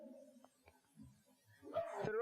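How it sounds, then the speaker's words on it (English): An old guard dog gives faint, soft whimpers and whines at close range, with a rising whine near the end, amid quiet background noise. "our old guard dog came in"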